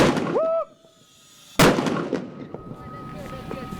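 Gunfire during military dog training: a single loud, sharp report with a rolling echo follows a brief high whine, then outdoor background noise continues with faint voices.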